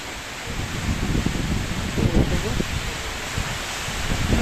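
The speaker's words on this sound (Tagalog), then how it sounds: "Labi kay hangin na may ulan amo ning kusog-kusogit." Steady, dense noise of blowing wind and falling rain in bad weather, with gusty rustling surges throughout and no pauses.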